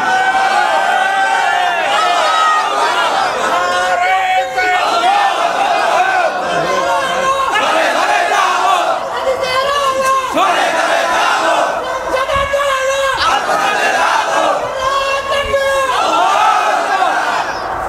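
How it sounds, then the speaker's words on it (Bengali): A large crowd at a political rally chants and roars slogans together in loud, rhythmic, sustained waves of massed voices, close and continuous throughout. "স্লোগান দিয়ে আল্লাহরে দেখান।"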